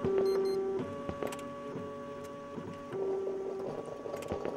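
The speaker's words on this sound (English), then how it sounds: "Oh, it's a printer." An office printer in the One Late Night video game runs steadily, with a whirring feed motor, a sustained tone at the start and again near the end, and repeated soft mechanical clicks and ticks throughout.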